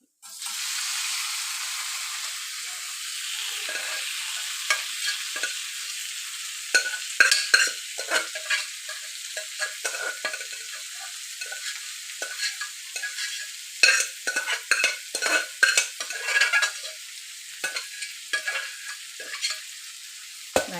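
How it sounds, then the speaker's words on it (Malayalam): Beef roast masala fried in a pan, stirred with a spoon: a steady hiss of sizzling broken by repeated scraping stirs that grow busier later on, close up and with no voices. "ഇത് വേവിച്ച് വെച്ചിരിക്കുന്ന ഇറച്ചി ഇതിലോട്ട് ഇട്ട് കൊടുക്കുക"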